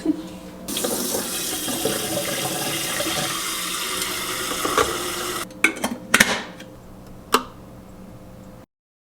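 Tap water runs steadily into a brand new vintage kettle for tea, a loud continuous hiss and splash for several seconds, then it stops and a few clinks and knocks follow before silence.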